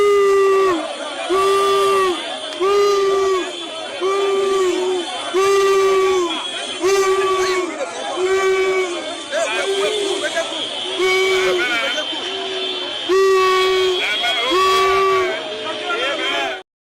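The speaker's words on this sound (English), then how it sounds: "He's literally being booed" A large crowd booing and jeering a politician at a public gathering, loud and sustained with rising and falling waves of shouting and whooping, close and overwhelming.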